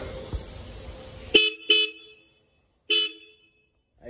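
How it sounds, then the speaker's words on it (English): Double horn fitted to a Royal Enfield Bullet motorcycle, wired straight to the battery, honks three short, loud blasts, two close together and one after a pause, under faint background noise. "This is how the horn sounds."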